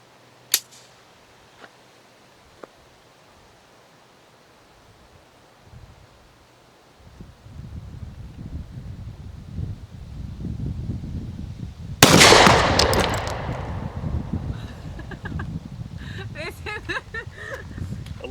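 A single pistol shot from a Walther Q5 Match with a 5-inch barrel firing SIG 115 grain ammunition, a sharp crack at middle distance followed by rustling and wind noise, with some faint earlier clicks.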